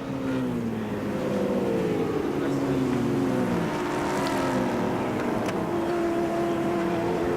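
Race cars in the 1994 Sandown 500 touring car race: several engines roar past in overlapping waves, pitch sliding down as they pass, loud and continuous under a faint crowd and circuit noise.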